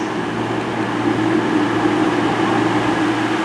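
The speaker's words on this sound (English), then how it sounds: "This train has 2 coaches." A two-coach Great Western Railway train at Newton Abbot station gives off a steady, even rumble and engine hum that holds constant throughout, fairly close and with no clear voices.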